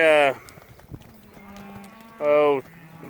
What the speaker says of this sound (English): I've got some big calves in here and then some little calves